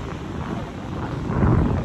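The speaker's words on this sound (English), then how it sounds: "It's quite windy though, like." Wind gusts on the Blackpool seafront during a fishing trip, buffeting the microphone with a steady, rough roar that grows slightly stronger toward the end. No one speaks.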